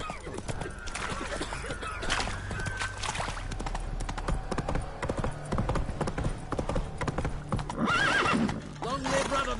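Roach, a video game horse, gallops in a steady clip-clop rhythm with loud whinnies, while game voices and music play over the hoofbeats.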